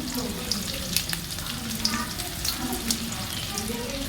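Chopped small onions and two dried chillies hit hot oil after mustard seeds have popped, making a soft, continuous sizzle with scattered crackles and pops, close but fairly quiet.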